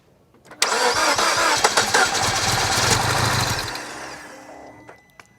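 A rebuilt Mini Cooper S engine cranks briefly, then fires and runs roughly for a few seconds before fading, heard close up.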